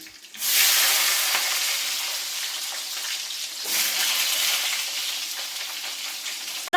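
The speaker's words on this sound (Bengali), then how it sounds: "বেগুনটাও খুব ভালো করে ভেজে নিচ্ছি" Long-cut eggplant slices, added after green chilies and black cumin, fry in hot oil with a loud, continuous sizzle. It swells again midway as the pieces are stirred.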